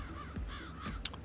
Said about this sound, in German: Oh, da sind wieder die Vögelchen.